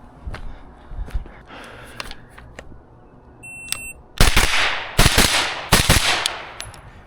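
Gunshots at an outdoor shooting range during April drills: several sharp, loud reports in quick pairs and bursts in the second half, after a quieter stretch with faint distant pops and a brief electronic beep.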